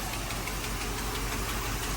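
A 1985 Mercedes-Benz 500 SEC Euro V8 runs steadily in drive with a misfire, giving a loud, continuous low engine rumble with an uneven knocking pulse throughout.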